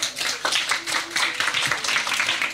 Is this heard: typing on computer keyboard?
no